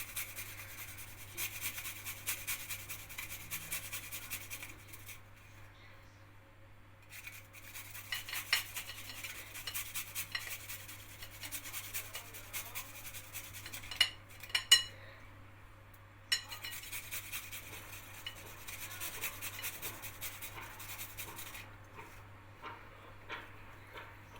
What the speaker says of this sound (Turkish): Bunun içerisine 3 diş sarımsak rendeliyorum